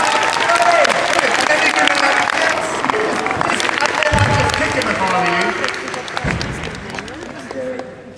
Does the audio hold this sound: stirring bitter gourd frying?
no